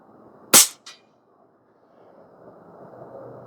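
A single loud, snappy report from a Stoeger XM1 Bullshark .22 PCP airgun fired at a 50-yard target is followed moments later by a faint pellet strike, then a low ambient hum.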